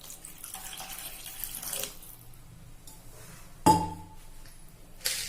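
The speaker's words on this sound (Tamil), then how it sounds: "கூட கொஞ்சம் தண்ணி விடுறேன்." Water runs steadily from a tap for a couple of seconds, then a clink and a brief gush as more water is poured into a cooking pot of brinjal kara kuzhambu, ending with another splash.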